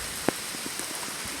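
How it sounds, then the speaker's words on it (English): Rain falls steadily outside as a soft, even hiss of drops, with one sharper drip standing out near the start and faint scattered patters after it. "Oh, it's raining outside."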